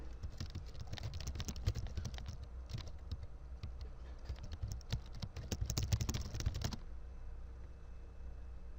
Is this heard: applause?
no